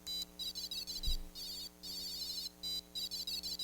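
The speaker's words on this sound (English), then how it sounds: "The 2023 square wavebird had one buzzer, which was capable of sort of doing one square wave, which sounded a little bit like this." A single buzzer on a Swadge electronic badge plays a bright square-wave melody in quick, choppy bursts with short gaps between phrases, clear and without any voices.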